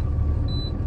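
A truck's diesel engine runs with a steady, loud low rumble and no break, a faint high whine riding above it briefly mid-way.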